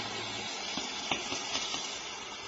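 Green pepper sizzling in a pan with browning meat, a steady soft hiss of frying with a few faint pops and stirring scrapes, close and fairly quiet.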